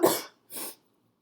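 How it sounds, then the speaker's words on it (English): Two separate coughs from one person, a harsh, loud burst and then a shorter, softer one, heard close up in a quiet room during gingerbread Christmas tree decorating. "Let me cough."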